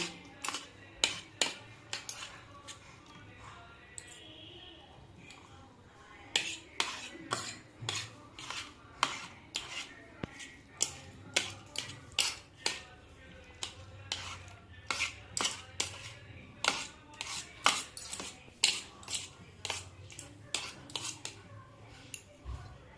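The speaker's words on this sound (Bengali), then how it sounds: "সিদ্ধ করে নেওয়া হয়ে গেছে, আমি এবারে কাঁটাগুলো ছাড়িয়ে নেব।" Metal cutlery clinks and scrapes against a plate while bones are picked out of boiled rui or katla fish for Bengali fish balls, a steady run of sharp, close taps and scratches with short pauses, no talking.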